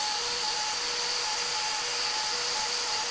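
A plastic oiler bottle is heated to soften it in a garage workshop, with a loud, steady whirring, blowing roar that holds constant throughout and has no speech.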